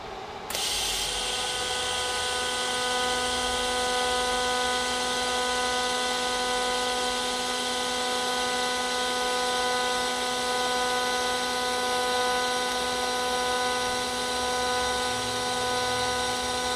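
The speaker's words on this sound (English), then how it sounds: "I'm going to go for my first full weld on this." An AHP 203xi welder laying a full weld on 110-volt power gives a steady, continuous buzzing hiss with fixed tonal hum lines that starts abruptly and holds evenly close by for the whole stretch, without talk.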